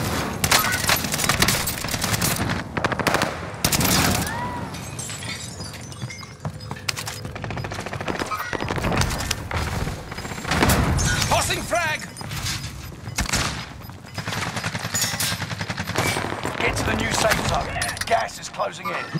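Bursts of automatic gunfire and single shots crack through a battle royale video game fight, loud and close, mixed with in-game callouts, clatter and brief pauses.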